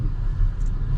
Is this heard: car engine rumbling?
yes